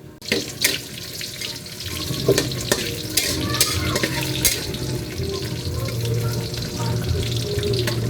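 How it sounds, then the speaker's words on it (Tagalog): Kikiam and squid balls frying in hot oil for lomi, a close, continuous sizzle with scattered clinks and stirring, preceded by a brief splash of running water. "Siya naman ang ating pipirituhin. Ang kikiam."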